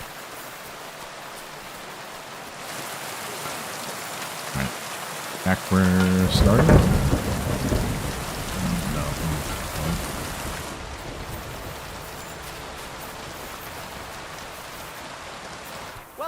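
Steady rain falls in the video game Kingdom Come Deliverance II, a constant broadband hiss throughout with a brief louder burst of rumbling and impacts midway; a voice speaks briefly.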